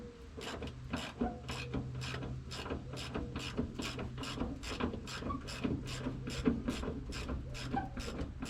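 A ratchet wrench loosens bolts while working on the fuel pump of a 2009 Chevy K2500 truck with a 6.0L engine, giving a rapid, regular run of close clicking strokes that continues steadily throughout.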